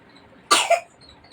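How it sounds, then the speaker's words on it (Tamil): A sick baby girl with a fever and a cold gives one short, close cough, a harsh double burst in her sleep, with near silence before and after. "தூக்கத்தில் கூட இருமல் வருது பாவம்"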